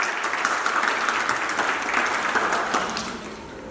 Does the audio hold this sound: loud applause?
yes